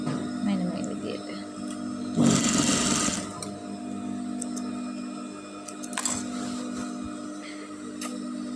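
A sewing machine stitches a white gown for a daughter in one brief, close, rattling burst of about a second, set among quieter room noise and a voice.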